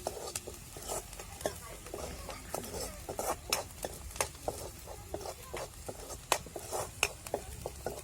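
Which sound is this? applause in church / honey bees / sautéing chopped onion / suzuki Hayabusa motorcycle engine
sautéing chopped onion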